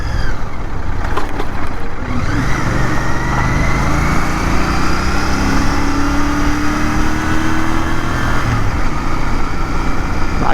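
A GT 650 motorcycle being ridden on the road, its engine droning loud and steady with rising and falling revs and wind rush throughout, no talking.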